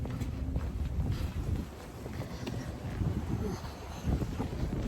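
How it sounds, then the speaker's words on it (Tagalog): Strong cold winter wind in Montreal, Canada buffets the microphone in gusty low rumbles, blustery and continuous with no voices. "Lamig yung hangin. Humahangin eh."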